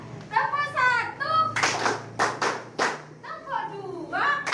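Students in a classroom clap together in a counted pattern, sharp unison bursts of one, two and three claps set between a teacher's spoken counts.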